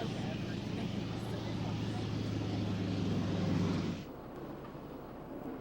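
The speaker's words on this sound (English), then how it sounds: "The planes take off right from the Juneau harbor." A float plane takes off from Juneau harbor in Southeast Alaska, a steady loud propeller engine roar that drops off sharply near the end, with a voice talking over it.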